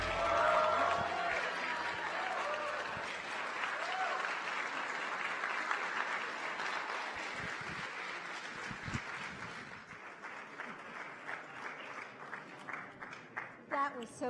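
At an Italian American Heritage Reception hosted by the First Lady, an audience applauds after a performance, steady clapping from a moderately distant crowd that gradually thins to scattered claps, with faint voices mixed in.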